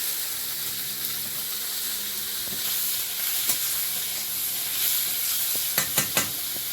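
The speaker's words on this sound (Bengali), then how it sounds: "কটা পেঁয়াজ আর কাঁচা লঙ্কা একটু দেবো এর মধ্যে কটা টমেটো দেবো" Onions, green chillies and tomatoes frying in hot oil as a base for fish curry, a continuous close sizzle and hiss with sharp spoon knocks and scrapes toward the end, without talk.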